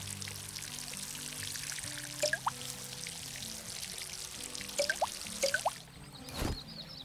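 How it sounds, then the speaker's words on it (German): Watering plants in Garten Simulator, a quiet soft pour with brief splashy bursts and a few drips, repeated in short bouts over a faint background with light music. "je mehr man pflanzt, umso mehr muss man natürlich hier auch gießen"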